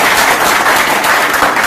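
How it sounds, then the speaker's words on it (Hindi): Loud, dense applause from an audience at an Indian electronics and mobile repair training session, a steady wash of many hands clapping close by. "खास तालियां हो जाए।"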